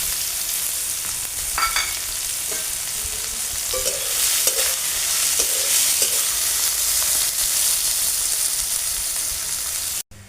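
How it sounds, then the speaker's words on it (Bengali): Chopped onion frying in oil in a kadai for a village-style fish curry, a steady close sizzle with occasional scrape and stir clicks, continuous throughout before cutting off abruptly at the end. "পেঁয়াজটা হালকা করে ভেজে নিয়ে তারপর দিয়ে দেবো কোচানো আলুগুলো"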